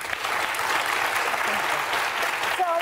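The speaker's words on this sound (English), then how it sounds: "So I just think it's weird to be clapping." A talk-show studio audience claps in a dense, sustained burst of applause, with a voice briefly rising at the end.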